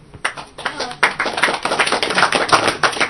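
A small group clapping in an uneven burst of rapid claps, close and fairly loud, lasting a few seconds.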